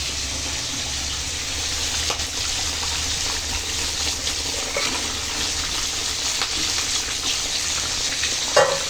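Fried katla fish pieces go into a simmering taro curry, which gives a continuous watery bubbling sizzle with occasional soft splashes and stirring knocks, close and fairly loud.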